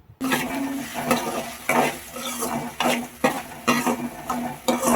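Tomatoes frying with turmeric and salt in a hot pan, a loud continuous sizzle broken by repeated close spoon scrapes and stirs against the metal, with no voices.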